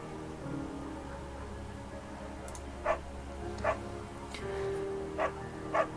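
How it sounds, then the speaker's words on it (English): A scruffy, undersized beagle barks in the video game Firewatch, with four short, separate yaps spread over a steady low ambient game background. "There's a scruffy, undersized beagle."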